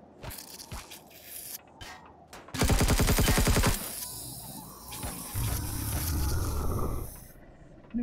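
Close, loud automatic gunfire in Empyrion Galactic Survival, a dense rapid burst of about a second followed by noisy rumbling aftermath, preceded by a few scattered sharp shots.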